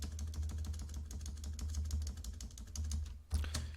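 Computer keyboard keys clack in quick, uneven bursts while someone works in an Excel spreadsheet, soft close typing with a brief pause and one sharper keystroke near the end.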